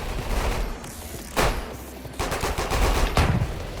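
A sniper rifle fires in the video game Weird Gun Game. Sharp, loud shots come at a slow, uneven rate, spaced across the clip, with a close clicking rattle in between.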